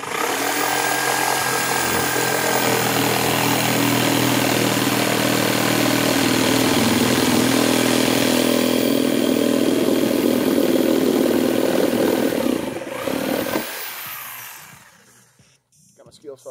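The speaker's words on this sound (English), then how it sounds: "Got my skill saw, not my skill saw, my jigsaw today." A jigsaw cuts through wood for a seat part, a loud steady buzzing motor drone that runs continuously for about thirteen seconds before winding down and stopping.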